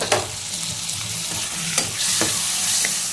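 Steady sizzling of onions and tomatoes frying in a hot pan, with occasional scraping and stirring clicks from a spoon, close and continuous.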